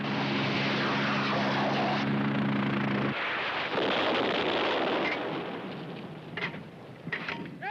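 A military helicopter roars loudly with a deep droning engine hum, then the heavy noise gradually fades and thins toward the end.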